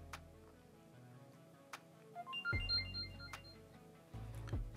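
A smartphone sounds a short rising series of electronic tones as it pairs wirelessly with another phone for a data transfer, with a few sharp clicks around it in a quiet room.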